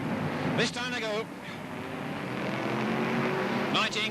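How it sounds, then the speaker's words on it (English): BriSCA F1 stock cars race around the Northampton track in a steady, massed engine roar, with voices talking over the din. "19 cars on the track"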